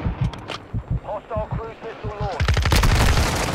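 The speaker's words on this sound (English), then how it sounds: "Someone else shot me!" Gunfire in Modern Warfare 2, a few sharp shots early followed by a sustained louder burst near the end, mixed with someone talking excitedly.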